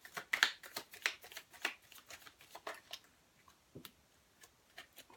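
Chuck Spezzano love cards are shuffled by hand, giving a quick series of crisp, close riffling snaps and flicks that thin out into scattered taps.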